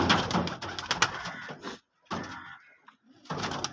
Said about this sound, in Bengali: এই এক জোড়া ম্যাডরাজ আছে দাদা